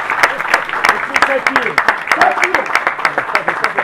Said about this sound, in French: Je vous demande vraiment de l'applaudir chaleureusement